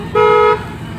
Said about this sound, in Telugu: హార్న్ కొడాలి ఇది కొంచెం ట్రాఫిక్ ఏరియా కదా